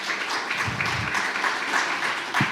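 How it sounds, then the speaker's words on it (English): Applause fills a forum hall as panelists walk on stage for a strategic discussion, a steady crowd clapping with a few louder individual claps close by. "please give them a round of applause as they come up"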